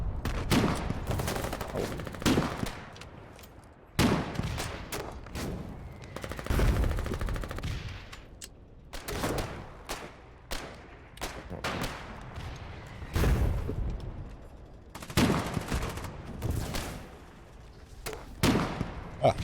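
Artillery fire in the war game Foxhole: repeated heavy booming blasts mixed with rattling gunfire, some close and loud, others more distant, going on as a steady barrage.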